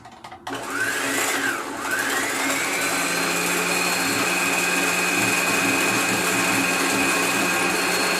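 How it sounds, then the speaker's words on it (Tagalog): A Singer 1408 portable sewing machine winds a bobbin. Its motor spins up after a brief pause into a loud, steady, close whir that holds without a break, with no talking. "you can start to wind the bobbin"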